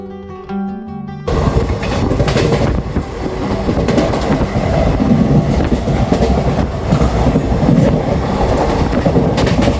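Passenger train running on rails, a loud, continuous roar with a dense clickety-clack of wheels that starts abruptly after a brief quieter opening and stays close and steady throughout.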